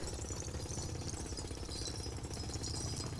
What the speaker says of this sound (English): Looked like I was actually drilling through that impenetrable stuff.